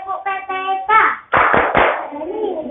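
A group of schoolchildren in a classroom chant together, their voices in unison mixed with rhythmic hand clapping in the Tepuk PPK routine, loud and close, in short bursts over about three seconds.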